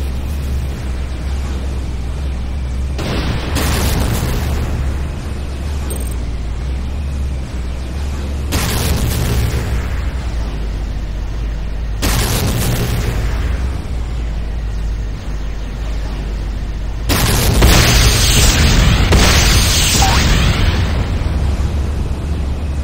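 Explosions rock the Nod airstrip in the Command & Conquer Renegade video game: four loud, heavy booms land a few seconds apart over a constant low rumble, and the last blast is the biggest and rolls on longest.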